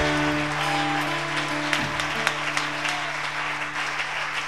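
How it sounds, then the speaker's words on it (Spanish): A congregation at a ministry congress claps in steady sustained applause, with a hum and faint voices underneath. "Denle un aplauso al Señor si puede."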